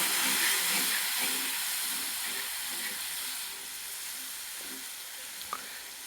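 Green chilies sizzling in hot oil for a dal tadka tempering, a loud, steady frying hiss up close that eases slightly over time, with faint stirring clinks and a brief clink near the end.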